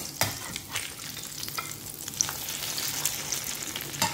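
A bitter gourd omelette with shrimp frying in a pan over low heat gives a soft, steady sizzle with small crackles and occasional scrapes of stirring, faint and without talk.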